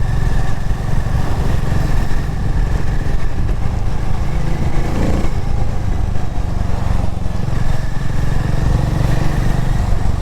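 A motorcycle engine roars continuously while riding, loud and close, with a steady rasping drone and slight shifts in pitch.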